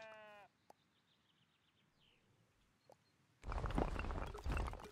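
Sheep bleating in the video game Tiny Glade, a short harmonic bleat at the start, then a few soft clicks over a quiet backdrop before a loud burst of dense noise near the end.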